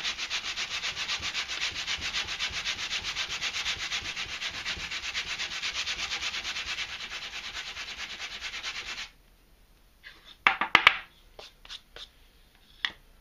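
Wood is sanded by hand with sandpaper, going with the grain to clear burn marks from a ruined pyrography piece. Steady rasping strokes run for about nine seconds, then stop, leaving a few scattered clicks and taps.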